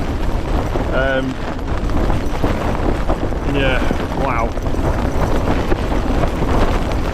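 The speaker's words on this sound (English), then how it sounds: "I don't know whether you'll be able to hear me over the wind noise" Strong wind buffets a tent at a stormy wild camp in the Peak District, a loud continuous roar against the fabric while a person speaks briefly.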